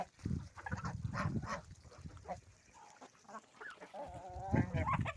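Several ducks quack and honk irregularly, close by but fairly soft, with overlapping calls and brief pauses.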